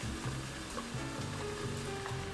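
Noodles sizzle and fry in a pan with soy sauce and sesame oil, a steady close hiss with faint stirring scrapes, with no speech over it.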